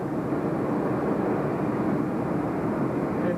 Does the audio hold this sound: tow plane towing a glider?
yes